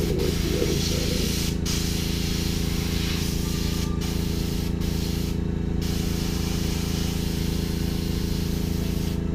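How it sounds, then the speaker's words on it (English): Aerosol spray paint hisses steadily onto a Tau Tiger Shark miniature model, a close, continuous spray running throughout with a few brief pauses and no voices. "If you ever spray a little bit too much paint and you feel like you messed up"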